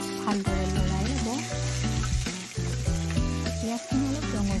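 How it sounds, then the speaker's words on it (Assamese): Onions frying in hot oil for an Assamese dekhiya recipe give a continuous, fairly soft sizzle that sits under loud background music throughout. "পিঁয়াজখিনি অলপ ৰঙচুৱা হ'লে ভাজি ল'ব।"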